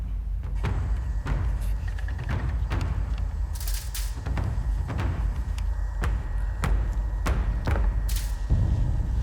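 A homemade ox bow of 18 mm ash being shot for the first time, giving a series of sharp thumps and cracks at uneven intervals with a steady low background rumble, no speech.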